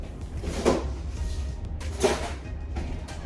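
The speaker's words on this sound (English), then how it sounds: "Y'all can hear me rustling through these drawers" Wooden drawers sliding and thumping as someone rummages, with two distinct knocks amid softer scraping and shuffling, close by.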